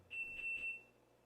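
A three-minute kitchen timer for tea gives a short burst of high electronic beeps, about three quick pulses running together, clear but fairly quiet, alone with no talk.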